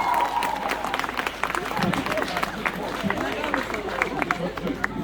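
Crowd applause at a sports award ceremony honoring athletes: a steady wash of clapping from many hands, filling the room while a voice speaks over it.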